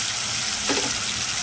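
Garlic paste frying in a pan, a dense, steady hiss of oil heard close up for a brief moment with a slight swell partway through, no talking.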